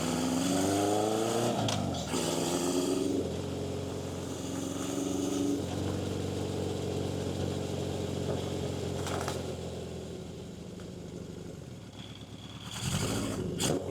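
Engines of passing motorcycles rise and fall in pitch, one after another, with a steady traffic rumble between them, on cobblestone streets in Portugal.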